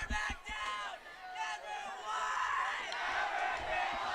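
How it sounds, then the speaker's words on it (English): A high school marching band and crowd cheering at a homecoming varsity football game, a distant mix of shouted chants and crowd noise at moderate volume, with voices rising and falling. "That is the Bruins marching band cheering on their team tonight."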